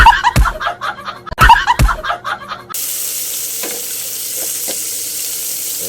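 Tomatoes dropped into a hot pan, a couple of loud clattering stirs followed by a steady bright sizzle that continues evenly to the end.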